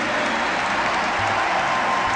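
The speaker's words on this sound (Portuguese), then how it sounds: "Aplauda para valer." Congregation applauding during a church service, a steady broadband clapping wash filling the whole moment at moderate level with no voices over it.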